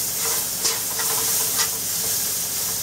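Ginger, garlic and onion sizzle in a little oil in a pan, a steady close hiss broken by a few scraping stirs, with no talking.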